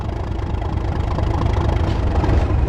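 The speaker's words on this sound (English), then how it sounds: "Increase the throttle to start moving" A diesel locomotive engine in Train Sim World 2 on a West Cornwall local service builds up power, a steady low rumbling drone that grows gradually louder and stays continuous throughout.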